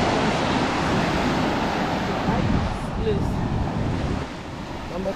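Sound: ocean waves at a beach in Freetown, Sierra Leone

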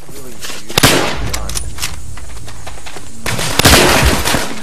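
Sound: gunfire from a weird gun in a video game

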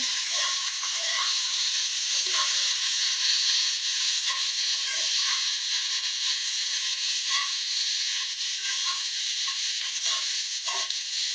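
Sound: green chillies roasting and sizzling in a pan

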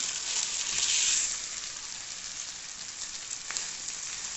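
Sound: pasta poured into frying pan with ketchup and sour cream

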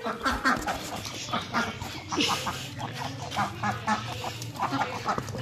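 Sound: chickens clucking

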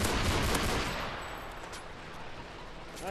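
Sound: Dragunov rifle gunfire in a video game

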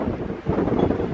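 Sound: wind blowing in woods at a cemetery

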